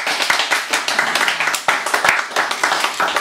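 Audience applause after a live singing performance, a dense, steady wash of many hands clapping at close range for several seconds, with a few sharper individual claps standing out.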